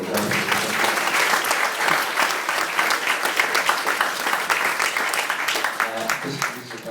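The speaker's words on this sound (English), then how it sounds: "I'd like to get a round of applause for Stuart." Wedding guests break into sustained, loud applause that fills the room for the whole stretch, with a few voices faintly audible beneath the clapping.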